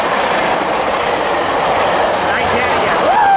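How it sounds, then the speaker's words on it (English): A Metrolink passenger train hauling past at high speed near Commerce, a loud, close, continuous rushing roar of wheels and cars with faint rising squeals of wheels near the end. "Looks like Metrolink about to haul past Commerce"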